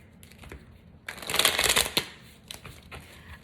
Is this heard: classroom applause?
no